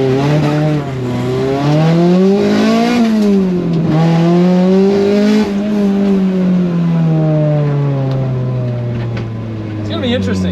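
A Honda CRX with modified suspension is driven hard. The engine revs loudly and climbs through the gears in repeated rising and falling sweeps, heard close from inside the car, with someone talking over it.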